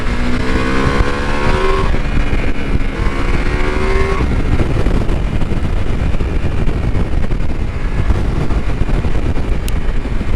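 Ducati Multistrada V4 motorcycle under way, its engine note rising through gears early on and then droning loud and continuous beneath heavy wind rush from the ride.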